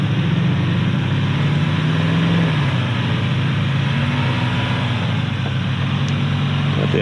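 Ford Bronco Everglades engine running steadily in 4 auto while climbing an off-road hill, a loud, continuous low rumble with a slight rise in revs and no talking.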